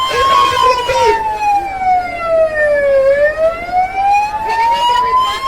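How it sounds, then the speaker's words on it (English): Loud wailing siren sweeping slowly down then back up in pitch, close by, with an engine rumbling underneath and brief voices at the edges. "Yes, call the ambulance immediately. Ambulance, forward!"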